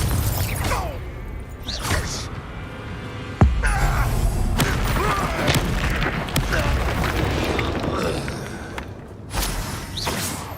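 Confringo fire spell blasting in Hogwarts Legacy, a sharp explosive boom partway through amid dense whooshing, crackling game effects and music, with several smaller bursts around it.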